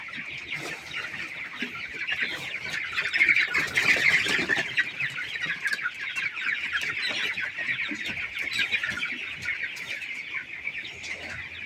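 A brood of 20-day-old chicks keeps up a dense, continuous chorus of high peeping close by, steady throughout with no voices.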